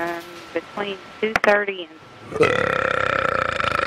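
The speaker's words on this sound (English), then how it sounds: "Can you please quit burping in my ear?" A man burps into a phone line, producing a long, loud, rattling belch in the second half after a stretch of talk, with the telephone audio sounding thin and close.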